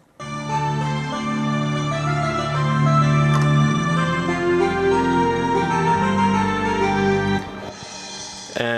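Original video game music in the style of Chrono Trigger's Millennial Fair plays as an orchestral arrangement layered over 8-bit synthesizer lines, a full sustained chord texture that cuts off near the end.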